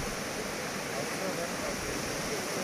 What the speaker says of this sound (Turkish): Fethi Şelalesi'ne geldik.